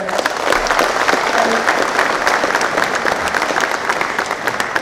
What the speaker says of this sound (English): So if I can just get a round of applause for Amit